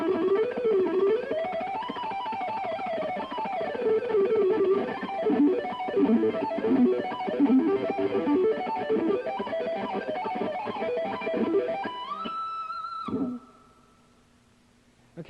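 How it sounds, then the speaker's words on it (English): Distorted electric guitar runs through a fast ascending riff in harmonic minor, dense and continuous, ending on a sustained bend before cutting to near silence. "I'm going to start off with a little ascending riff"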